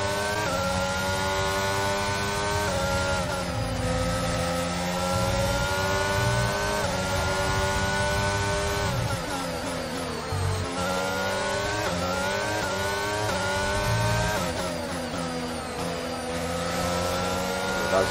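Formula 1 cars race in the video game F1 22 at the Hungarian Grand Prix, a loud, continuous high-pitched engine whine rising and falling through gear changes and accelerations for the whole stretch, with no talk.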